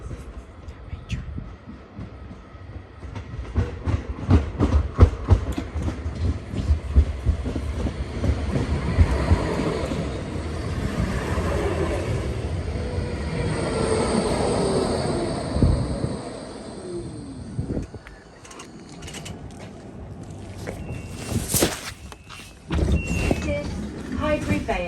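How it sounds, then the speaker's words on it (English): An orange tram rumbles past close by in Nottingham with a low mechanical drone and clattering, while people chat over it and a brief high squeal rises near the end. "There's orange trams."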